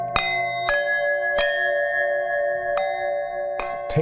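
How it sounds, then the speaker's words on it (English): A singing bowl tapped softly with a stick, five or six gentle strikes at uneven intervals, each leaving a sustained shimmering ring that carries over into the next, close and clear with no talking. "you can add energy to these bowls to whack them a little bit and they'll ring"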